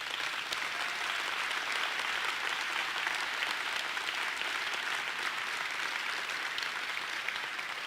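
Sustained applause from a large audience at a mayor's State of the City address, a dense, even roar of clapping that holds steady throughout.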